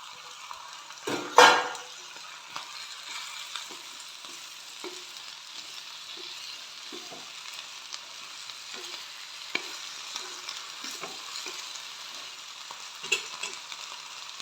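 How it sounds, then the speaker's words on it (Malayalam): Chopped ivy gourd tipped into a pan of softened onions and stirred: one loud clattering drop near the start, then a soft, steady frying sizzle broken by occasional scrapes and utensil clinks. "ഇനി ഞാൻ ഈ കോവക്ക അരിഞ്ഞത് ഇതിലേക്ക് ഞാൻ ഇട്ട് വെക്കുന്നു"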